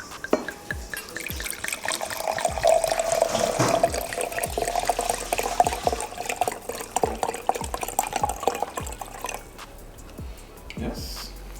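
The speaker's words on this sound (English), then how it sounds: "we're gonna pour up some wine, some Chardonnay actually" Chardonnay wine is poured into a glass, a continuous trickling, splashing stream that rises as the glass fills, with scattered soft clinks and taps around it and quiet talk in the background.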